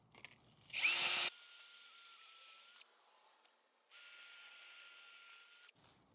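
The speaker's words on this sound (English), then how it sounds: "So now we got the holes drilled." Power drill boring mounting holes for a smart sprinkler controller, two sustained high whining runs of a couple of seconds each, close and loud, with a short burst at the start and a quiet gap between.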